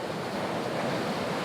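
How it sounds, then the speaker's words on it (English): Heavy ocean waves hitting rocks at sunrise on a shoreline, a continuous dense roar of surf with wind buffeting the microphone, steady and loud, no talk. "We're getting some pretty heavy waves hitting the rocks here"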